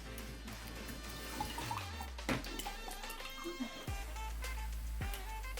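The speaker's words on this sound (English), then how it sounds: "let me dump the water." Water poured out of a container during a toy dino egg play session, a short splashing pour with sliding low tones and a couple of knocks, fairly faint.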